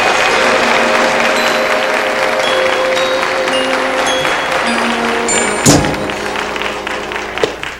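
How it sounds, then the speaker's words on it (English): A game show studio audience applauds with a steady, full clapping wash, broken by a couple of sharp thumps near the end as it fades. "Let's give him a good round of applause"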